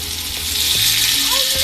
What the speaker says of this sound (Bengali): এখন আমি এই সবগুলো উপকরণ একসাথে ভালোভাবে ভেজে নেব।